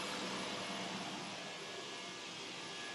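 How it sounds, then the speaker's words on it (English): Steady broadband roar of motors running in the engine room of a 36-knot triple-engine superyacht, loud, continuous and close for the whole stretch, with no voices. "we'll turn off a couple of those motors. There we go. So you can hear what I'm saying."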